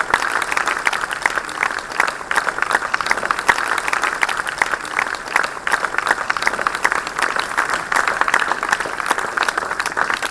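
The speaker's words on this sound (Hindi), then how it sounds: "तालियों के माध्यम से स्वागत करते हैं इस नए आगाज का" Sustained applause from a large audience welcoming guests at a science workshop on Earth's atmosphere and the universe, dense and steady throughout with no talk over it.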